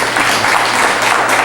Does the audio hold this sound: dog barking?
no